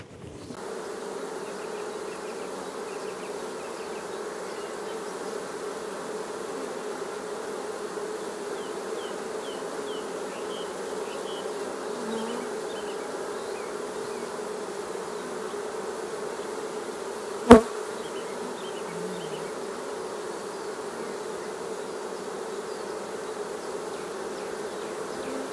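A honeybee swarm pouring into a hive makes a dense, continuous buzzing drone that holds steady throughout, broken once by a single sharp click.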